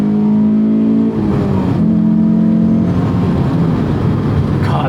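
Engine of a 2006 Honda S2000 (AP2) or 2024 Mazda MX-5 Miata (ND3) sports car revving up and dropping between gear shifts, loud and close, with steady drone broken by brief pauses as gears change.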